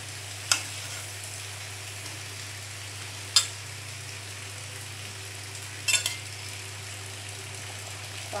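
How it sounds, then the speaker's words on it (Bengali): Karola-shaped pitha cakes frying in oil give a steady soft sizzle throughout, broken by three sharp clinks of a utensil against the pan. "করলা ফলের যে পিঠাটা, ওই পিঠাটা ভেজে নিব তেলের মধ্যে"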